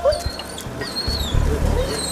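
A police dog whimpers and yips in short, high bursts over a low, rumbling background noise.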